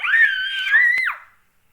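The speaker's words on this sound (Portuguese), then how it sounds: "Gente, ele gritou no meu ouvido." A single loud, close scream holds a high sustained pitch for about a second before trailing off into silence during a horror video game session.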